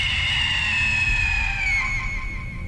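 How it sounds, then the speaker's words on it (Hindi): A witch's horror-effect scream rings out as one long, loud, piercing wail that holds steady and slowly trails off, with no talk over it. "चुड़ैल की चीख विक्रम के कानों में सुनाई दे रही थी।"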